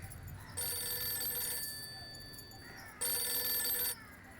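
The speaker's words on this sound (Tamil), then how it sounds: "மாமா மாமா ஃபோன்." A telephone rings in a Tamil film scene, two bursts of a bright electronic ring separated by a pause, heard clearly over a quiet room background with no talk.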